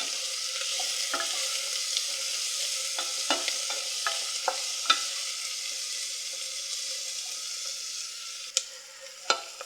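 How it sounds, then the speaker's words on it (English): Chopped onion sautés in a hot pan, giving a soft, continuous sizzle broken by scattered scraping strokes and taps as a spoon stirs it. Nobody speaks. "It's good to make sure that you're always stirring your onions so that they don't get burned"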